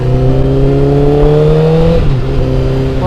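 A Honda CBR1000RR 1000cc motorcycle engine revs loud and close, its pitch climbing and dipping through steady throttle blips for a few seconds with no one talking.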